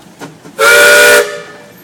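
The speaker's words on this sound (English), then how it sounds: "Matt, do you have a whistle?" A 1917 Nichols Shepard steam traction engine sounds its steam whistle in one loud, steady blast of about half a second, clear and close, with quiet outdoor background before and after.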